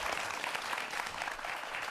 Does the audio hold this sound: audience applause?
yes